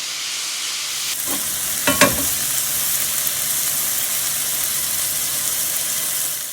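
Homemade beef chorizo sizzles steadily in a pan, a continuous bright hiss with a couple of brief stirring scrapes near the start and no talking.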